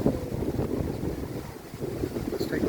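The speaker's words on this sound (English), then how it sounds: "we got another crazy windy day" Strong gusting wind on a crazy windy day with misty rain, roaring and buffeting against the microphone in a continuous low rumble, close and fairly loud.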